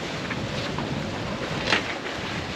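A sailboat moves under sail at about 7.5 knots, giving a steady, close rush of wind and water noise with some microphone buffeting and a brief louder gust near the end.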